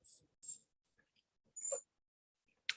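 A dog whimpers nearby in a few short high whines and soft breathy squeaks separated by silences, with no talking over it.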